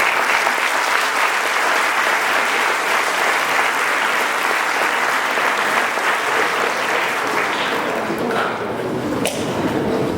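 A large audience at a high school graduation ceremony applauds the teachers, a loud, dense, sustained wash of clapping that runs the full length before easing slightly near the end.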